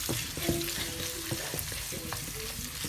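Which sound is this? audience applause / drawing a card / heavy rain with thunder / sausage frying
sausage frying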